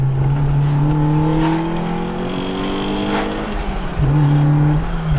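A track-set-up drift car engine revs and climbs in pitch as it accelerates hard, then drops and picks up again, loud and close with a whining drone.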